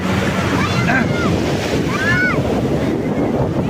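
Storm-driven waves pound Cox's Bazar beach in a steady, loud roar, strong wind blasting the microphone, and faint shouts of people bathing in the surf carry in the distance.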